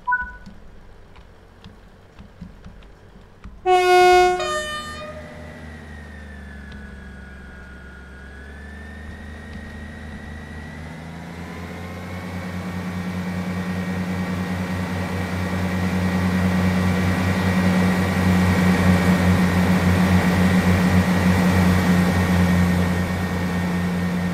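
A Class 158 diesel train engine in a train simulator game starts with a brief tonal chime, then settles into a steady low rumble that slowly builds and drones on, with no voices.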